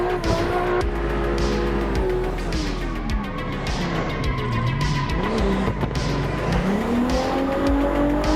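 A drift car in the Assetto Corsa racing game holds a long slide, its engine droning and revving in shifting tones while tires squeal steadily throughout, loud and continuous with no pauses.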